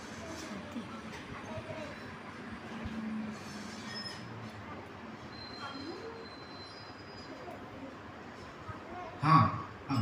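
A miniature hanging monorail runs along its overhead wire at a miniature railway museum in Kothrud, Pune, giving a steady rolling, squealing rail sound with a brief louder burst near the end.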